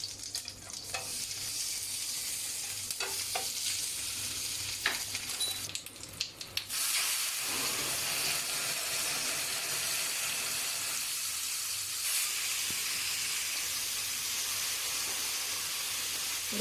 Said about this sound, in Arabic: وجبت كده الجريل على النار، سخنتها كويس قوي، وانزل فيها كده بشويه زيت وقطعتين ليمون